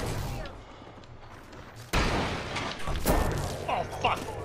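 Mastiff shotgun blasts in Apex Legends: a sharp loud report near the two-second mark followed by further heavy shots and thumps amid battle noise, with a voice talking over the action.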